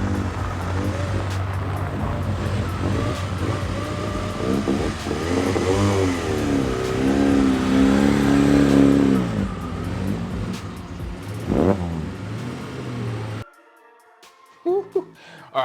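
A McLaren F1 supercar engine revs loudly and keeps going, its pitch rising and falling as people talk over it. After about thirteen seconds it cuts out to near silence.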